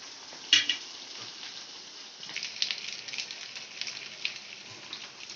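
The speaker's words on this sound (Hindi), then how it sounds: "इसको अच्छी तरीके से हमें कुरकुरी करना है, इसमें अच्छा फ्राई कर लेना है।" Dried Bombay duck (bombil) crisping in hot oil in a pan, a steady bright sizzle and crackle with small pops and occasional stirring clinks, close and continuous.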